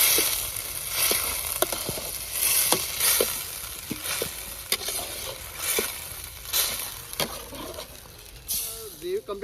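Onion and tomato gravy for a winter green chickpea curry sizzling in a pan in a village kitchen, with steady frying hiss and repeated scraping and stirring strokes of a spoon, close and fairly loud.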